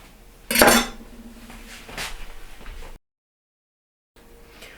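A spoon scrapes roasted pumpkin flesh from its skin against a dish, with one loud scraping clatter followed by softer scrapes, a pause of silence, then faint scraping again; close up, no voices.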